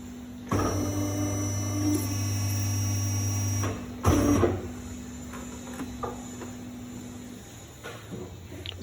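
A bakery dough divider press runs with a steady mechanical hum while pressing baguette dough, then a clunk, a second shorter whir and some faint clatter as the machine settles.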